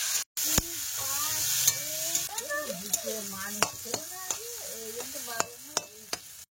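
Potatoes and pointed gourd sizzle softly in oil in a pan while a utensil stirs and scrapes, with sharp clicks and taps at irregular intervals.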